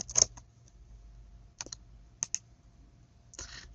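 Scattered keystrokes on a computer keyboard as a username is typed, a few short bursts of clicks separated by pauses, close and fairly quiet with no talking.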